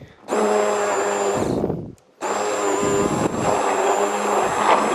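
A blender grinding strawberries and bananas into juice on a higher speed setting, a loud steady motor whir that cuts out briefly and starts again, with the pitch shifting as the jar is moved up and down.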